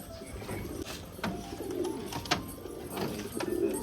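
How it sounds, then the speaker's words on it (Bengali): Caged pigeons cooing in low, murmuring bursts against a busy outdoor background, with several overlapping soft calls spread across the moment and no voices. "তো ওই খাঁচার পায়রাগুলোকে এখন ছাড়বো।"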